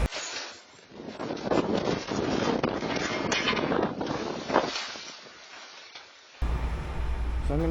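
Strong wind roars and gusts steadily during a snowstorm, buffeting the microphone with dense rushing noise before cutting abruptly near the end to a low engine-like hum.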